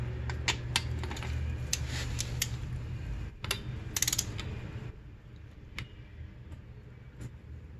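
Ratcheting clicks of a torque wrench tightening the oil drain plug to 16 foot-pounds on a 2006 Honda CRF250R dirt bike, a run of sharp close clicks over a steady low hum, then a few scattered clicks.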